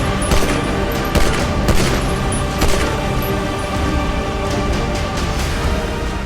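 Gunfire from a news report on an altercation at Nizamuddin station: a dense, continuous fusillade of overlapping shots with sharp cracks standing out, loud and sustained throughout with no talk.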